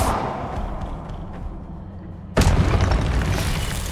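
A single loud Confringo blast spell in Hogwarts Legacy bursts suddenly after a stretch of rumbling battle noise, followed by a sustained rolling roar as the explosion fades.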